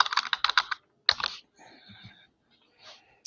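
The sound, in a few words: computer keyboard typing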